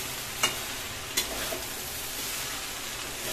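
Spices sizzling as they fry for an echor chingri curry of young jackfruit and prawns, a steady crackling hiss with two sharp scrapes of a spoon stirring the pan, no voices.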